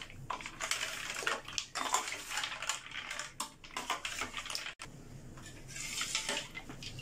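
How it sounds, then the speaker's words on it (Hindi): Lots of ice being added to custard sharbat and stirred in, with clinks, rattles and crunchy scraping in a dense, irregular run of close clatter that eases briefly before picking up again. "ज्यादा सारी बर्फ डालें, इसे अच्छी तरह मिक्स करेंगे"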